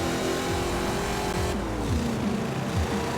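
A stock Chevy Camaro IROC-Z V8 engine in the video game Forza Horizon 4 revs continuously, its deep rumble rising and dropping through gear changes, loud and close with no talking.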